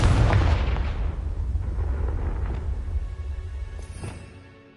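Confringo blasting spell explosion in Hogwarts Legacy: one heavy booming detonation followed by a long low rumbling tail that fades out over a few seconds.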